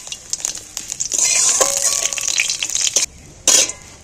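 Dried red chilli and five-spice seeds frying in hot oil, a close, loud crackling sizzle building then cutting off, with a brief burst of sizzling returning near the end.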